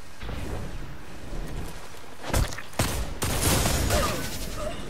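Bursts of rapid gunfire and sharp shots in a video game over a constant noisy background, with loud clusters of shots in the second half.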